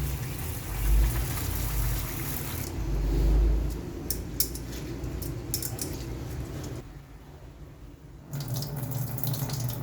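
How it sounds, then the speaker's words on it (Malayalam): Chamba rice being washed in a pot: running water pours and splashes near the mic, with swishing and light clinks, then the flow stops and briefly resumes near the end. "ഇനി നമ്മൾ ഇതിലേക്ക് വെള്ളം ഒഴിച്ച് കഴുകി കൊടുക്കാം."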